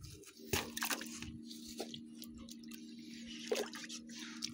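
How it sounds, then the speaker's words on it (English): A ball is washed off in water in a backyard, giving wet drips, splashes and squishy handling noises in short bursts over a low steady hum, close by with no talk. "I'm trying to wash off the ball."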